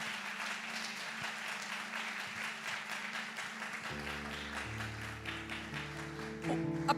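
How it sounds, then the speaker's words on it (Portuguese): A church congregation applauds the welcome team at a Communion service, soft, distant clapping over a steady low tone, with instruments joining partway through. "Uma salva de palmas para o pessoal das boas-vindas."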